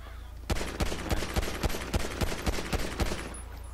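Pistol shots fired one at a time in GTA 5 Online, about a dozen sharp, loud cracks at a steady, unhurried rhythm over a low game hum.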